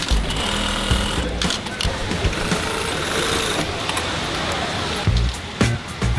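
An industrial sewing machine stitches the left and right fronts of jeans together in a garment factory, giving a loud, continuous mechanical whir with brief stops and restarts and clattering factory noise around it.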